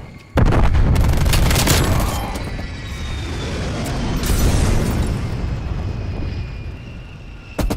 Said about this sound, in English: Enemies destroyed your sentry turret.